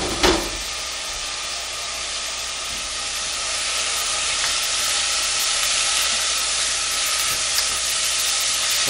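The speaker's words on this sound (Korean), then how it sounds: "이제 소고기를 넣어서 살짝 볶은 다음에 끓입니다" Beef hisses and sizzles loudly as it is lightly stir-fried in a pot for Korean beef radish soup, a steady bright frying crackle after an initial clatter, continuing unbroken to the end.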